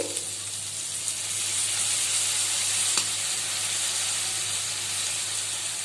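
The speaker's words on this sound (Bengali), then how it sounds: "এখন আমি এর মধ্যে একটু সয়া সস দিচ্ছি" Soy sauce poured into a hot pan while making mutton cheese toast, giving a steady, even sizzling hiss that holds throughout with a faint tick near the middle and no talking.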